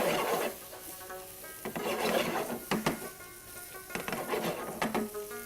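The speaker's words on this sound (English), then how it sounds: "When you put yogurt, you always stir" Spoon stirring yogurt into a curry gravy for paneer, a close, scraping, rubbing sound that comes in irregular strokes across the pot.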